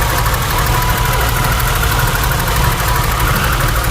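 A BMW E30 convertible engine idles steadily and close by, a continuous low rumble with a faint tick layered over it and no talking.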